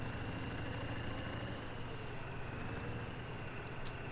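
The Curvets tractor in Farming Simulator 17 idles with a steady, low engine drone, continuous and moderately quiet, with no talk over it.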